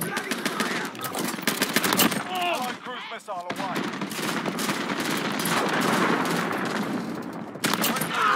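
Dense, sustained gunfire from a Call of Duty match crackles almost continuously, with rapid automatic bursts and occasional single shots, loud and close, with a voice talking faintly beneath.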